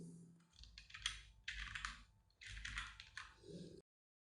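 Close computer keyboard typing in bursts of rapid clicks with short pauses between them, quiet and clear with no voices.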